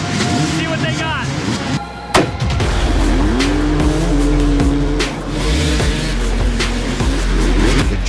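Dirt bikes revving hard together off the starting line of a race in Tamaqua, Pennsylvania, a dense, continuous engine roar with rising pitch as the pack accelerates, buried under a crowd-like wash of motor noise.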